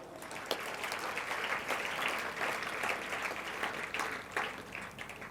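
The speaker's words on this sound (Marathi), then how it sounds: "तुमचं कौतुक केलं, टाळ्या वाजवा." An audience at a school's annual function applauds, with dense, continuous clapping of moderate loudness that holds steady for several seconds without talk.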